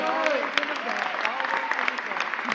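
Round of applause from the audience at a mayor's press conference, steady dense clapping throughout with voices murmuring underneath.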